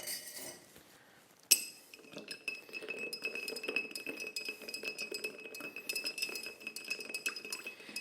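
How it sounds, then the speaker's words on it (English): Bourbon gets stirred with one large ice cube in a glass, starting with a sharp clink and then light, repeated tinkling and rattling against the glass, close and quiet. "we're going to give it a stir."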